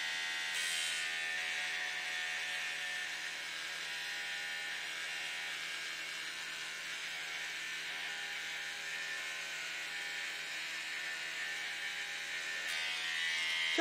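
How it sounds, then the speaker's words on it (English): A steady, faint buzz from a battery-powered electric toothbrush rigged as a glass frit applicator, holding an even tone throughout with no voices and a small knock at the end. "this, which is a pen and electric toothbrush, does give you a fair amount of controllability"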